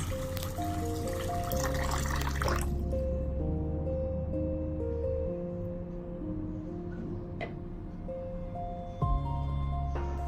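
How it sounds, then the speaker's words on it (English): Water trickles and pours steadily for several seconds over adzuki beans for soaking, a soft continuous splashing into a container, with sustained musical tones playing underneath. "Then just soak them in plenty of water."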